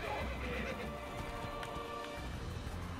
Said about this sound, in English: My horse is running away from me.